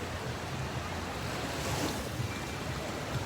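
Sea waves wash steadily onto a beach, a dense, continuous surf roar with wind buffeting the microphone, no voices.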